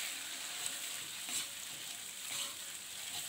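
Oyster sauce and seasonings fry in a pan with a soft, steady hiss, swelling briefly as a utensil stirs through them, faint and close with no voices.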